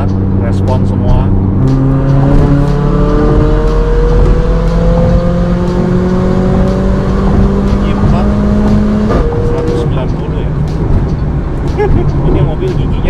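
A Mercedes GLA45 AMG making 432 wheel horsepower, with a seven-speed gearbox, accelerates hard. The engine note rises loud and continuous through several gear shifts from inside the cabin, and a voice talks over it.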